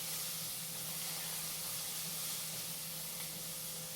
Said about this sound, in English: we're just sweating these vegetables down, just in a little bit of oil